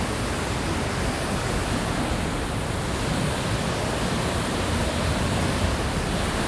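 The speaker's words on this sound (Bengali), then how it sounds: "দেখেন পাথর, এখানে বরহিল ঝর্ণা।" Borhill waterfall at Dawki, spilling down a hillside over rocks, gives a dense, unbroken roar of rushing water that stays loud and even from start to finish, with no voices.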